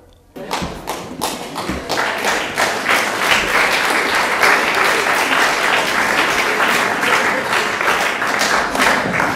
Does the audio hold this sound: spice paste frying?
no